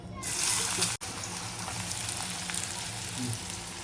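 Onion frying in hot oil in a pan, a dense, continuous sizzle close up that cuts out for an instant and then carries on steadily, with a faint voice underneath.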